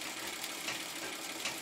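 Treadle sewing machine embroidering quilt leaves, a steady, fast, faint mechanical whirring and clatter running evenly throughout with no talk.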